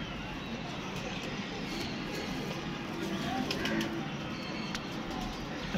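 Teddy pigeons cooing in a loft, soft low coos repeating amid constant background hiss and distant traffic, with someone talking nearby.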